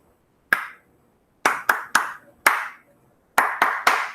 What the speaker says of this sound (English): I'm going to clap it and say the words inside my head.